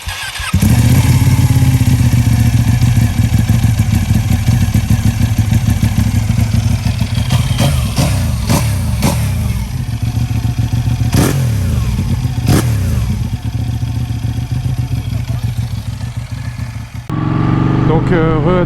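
A Ducati 1199 Panigale S motorcycle engine runs loud and close, with repeated throttle blips rising and falling over a steady idle before a brief cut near the end.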